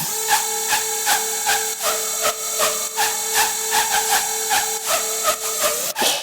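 A trap track's synth section carries a sustained tonal line under a busy stream of clicky, percussive hits, all at a steady, loud level for several seconds before a short break near the end.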